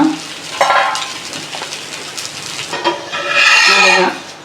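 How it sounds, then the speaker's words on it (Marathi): Moong dal dosa roasting and being flipped on a hot pan, with a steady, close sizzle that swells louder toward the end. "अशा प्रकारे तुम्ही दोन्ही बाजूने उलट पलट करून छान भाजून घ्यायचा"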